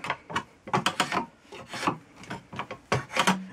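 A spokeshave shaves a wooden chair stretcher spindle for a Sussex chair, giving a quick series of close, rasping strokes in an irregular rhythm, with no talking.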